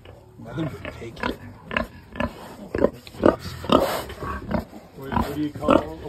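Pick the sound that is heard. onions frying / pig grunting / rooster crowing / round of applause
pig grunting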